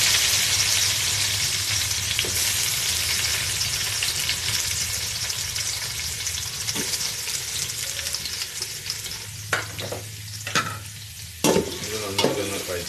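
Curry leaves drop into hot oil already crackling with fenugreek, cumin and green chillies for Palakkad-style chicken kuruma, giving a loud, steady sizzle with stirring and a few sharper spatters near the end.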